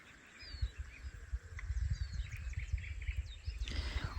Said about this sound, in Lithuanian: Paukščiukai, gegutės,